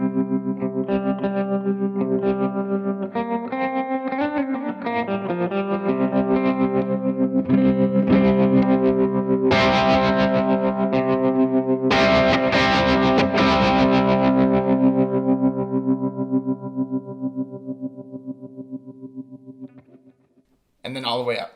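Electric guitar through a Mooer Trelicopter tremolo pedal with the bias knob turned all the way down, sustained chords pulsing steadily with a chorus-like shimmer and light grit, loud and alone before fading to a short silence.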